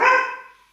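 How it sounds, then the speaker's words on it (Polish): A small puppy lets out a single short, loud yap indoors, sharp at onset and fading quickly, with no talking over it. "słyszycie, słyszycie kto szczeka?"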